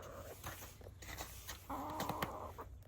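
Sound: hens clucking

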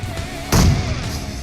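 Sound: explosion in PUBG Mobile video game

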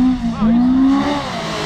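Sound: side-by-side UTV (Maverick X3) engine revving, arriving for jump

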